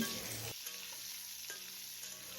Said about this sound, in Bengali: এদিকে আমার আলু পটলগুলো ভাজা হয়ে গিয়েছে